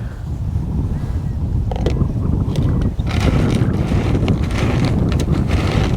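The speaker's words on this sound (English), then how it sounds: "When it's windy like this" Wind gusts rush steadily across the microphone outdoors at a fishing lake during a match, with faint creaks and mechanical clicks in the background.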